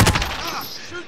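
Gunfire in the Call of Duty: Modern Warfare video game comes as a short, loud crackling burst of shots that trails off into a fading echo.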